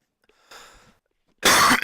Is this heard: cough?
yes